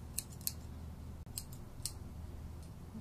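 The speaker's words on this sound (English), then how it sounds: "The curved scissors." Curved grooming scissors snip through a poodle's hair, giving a few quick, crisp metallic cuts spaced irregularly over a steady low background hum.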